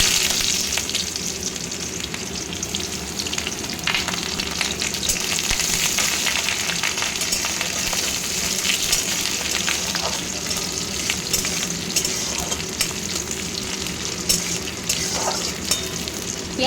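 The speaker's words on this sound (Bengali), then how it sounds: "একটু পেঁয়াজ কুচি অ্যাড করে দিচ্ছি।" Chopped onion frying in hot oil in a wok with whole spices and cumin, a steady, close, continuous sizzle with occasional stirring scrapes and no talk.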